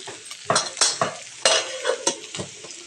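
Okra being stirred and sautéed in a pan for a spicy bhendi bhaji, with several distinct scraping stir strokes and utensil clinks over a low sizzle, close and fairly loud, no talking.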